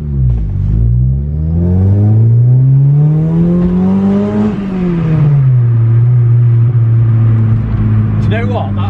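A Honda Civic EJ9 accelerates on a test drive: the engine note climbs steadily through the revs, drops at a gear change and pulls on again, loud and close from inside the car.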